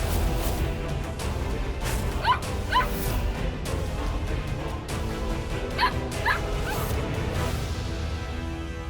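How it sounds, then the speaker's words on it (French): Dog barking beside a car in a drama scene, two pairs of short yips and barks a few seconds apart over a steady, noisy background. "Mais pourquoi Tinku aboie-t-il comme ça"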